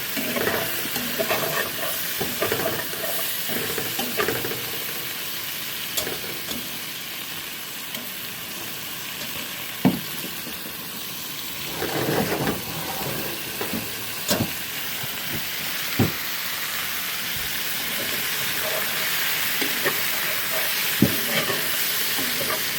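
Noodles are stirred as they brown in a pan over a camp stove for Mexican-style shells, with a continuous sizzle and scattered scraping knocks from the utensil, close up.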